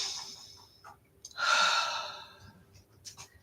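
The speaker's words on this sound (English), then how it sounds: "taking a deep breath" During a guided healing meditation, one slow, deep breath is drawn in and released as a long, soft, airy exhale, close and clear against a quiet background, without words.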